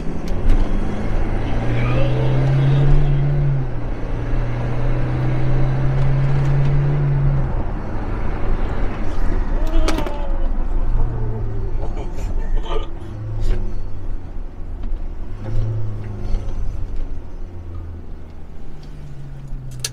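A Toyota Innova Reborn with a Stage 2 modification, driven in power mode, accelerates hard through several gear changes, its engine tone rising in repeated surges heard from inside the cabin, with a voice speaking briefly at times.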